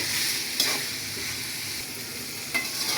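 A vegetarian vegetable bhaji with salt, turmeric and slit green chillies stir-fries in a pan, a constant close sizzle marked by two or three scraping spatula strokes, with no voices.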